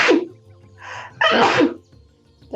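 Someone gives one sharp sneeze that starts with a quick breath and bursts out loudly, followed by a short trailing breath, with a soft voice murmuring near the end.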